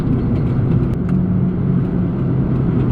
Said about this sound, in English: Yeah, there's definitely some road noise in the back. Sounds like a wheel bearing.